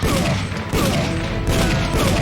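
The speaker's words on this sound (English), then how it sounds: "the gunshots are very, very loud" Loud gunfire in a dense, continuous barrage, with bursts overlapping and a brief break before it resumes, harsh and close throughout.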